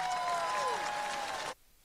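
A crowd cheers and applauds in a dense, steady wash of clapping for about a second and a half, then stops abruptly, leaving near silence.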